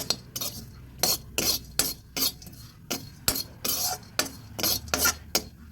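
A spoon mixes fried almonds into sattu in a bowl for a chana sattu sweet, making a series of irregular, close metallic clinks and scrapes against the bowl in short bursts, fairly faint, with no talk.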